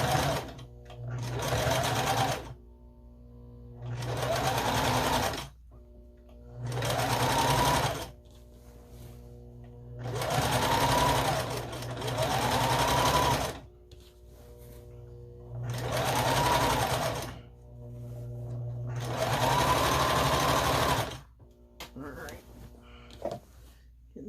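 Sewing machine stitching across a thick seam on a scrappy string quilt, running in six steady bursts separated by short pauses, a close, busy mechanical whir over a low hum.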